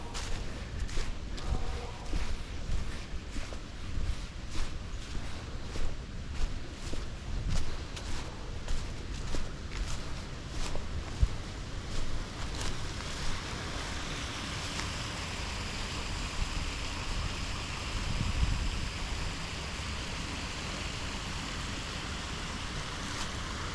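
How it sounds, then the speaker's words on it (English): A creek flows near a hiking trail in Pine Quarry Park, a steady soft rushing that grows more even as it continues, with footsteps crunching along the trail at first. "Hear the creek already."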